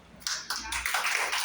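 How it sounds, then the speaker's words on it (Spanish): Applause at a Women's Day celebration in a health clinic, a steady patter of hand claps from a small group that swells after a quiet start and continues without talk. "un aplauso porque este día no nos merecemos"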